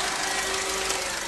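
A car engine runs steadily nearby with a constant droning hum and faint mechanical vibration, loud and unchanging with no talk.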